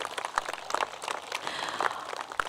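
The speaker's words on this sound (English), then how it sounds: "Let's give all of them an applause and thank you for all that you've done for our scholars" An audience at a high school graduation ceremony gives brief, scattered applause, with quick irregular claps from a crowd at middle distance.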